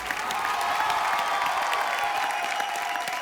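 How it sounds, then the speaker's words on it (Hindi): Studio audience at a televised singing competition applauding, a steady moderate wash of clapping and faint crowd noise lasting the whole stretch without speech. "एक बार जोरदार तालियां हो जाए"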